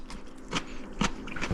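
A few crisp crunches of someone chewing crunchy food topped with Sichuan chili oil and crushed peanuts, close up, in quick succession.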